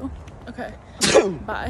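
A single sharp sneeze bursts out close up, followed by a brief spoken remark.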